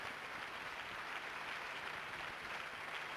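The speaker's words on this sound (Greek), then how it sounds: "ο κόσμος χειροκροτεί" Audience applause at the Eurovision Song Contest 1990, a dense, steady wash of clapping from a large hall crowd that holds even and unbroken throughout.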